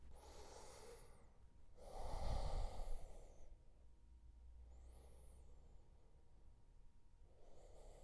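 Slow breathing during a yoga class, faint and close, with a few soft breath sounds and one louder exhale near the middle; no talking.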